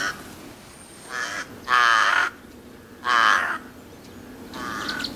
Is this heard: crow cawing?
yes